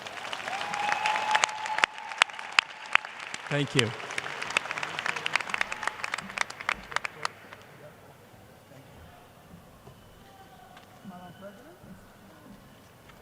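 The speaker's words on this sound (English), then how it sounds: "give all of those people a well-deserved round of applause" Commencement audience at John Jay College applauding families, a dense burst of clapping for several seconds that thins out and fades, with a brief spoken thanks over it.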